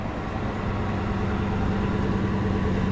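With its full exhaust back on, an old bus engine idles in a steady, low, throbbing rumble, close and even throughout, with no voices.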